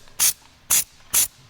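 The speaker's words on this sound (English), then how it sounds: "have you ever spray painted before?" A spray paint can fires three short, evenly spaced bursts of sharp hiss while coating a Polaris RZR side-by-side, each bursting close and loud between brief silences.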